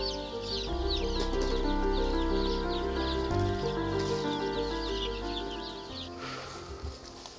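Native Korean chicks and hens on a small farm in Dangjin, South Chungcheong, give off a stream of high, rapid peeping and clucks that rise and fall throughout, heard beneath steady background music.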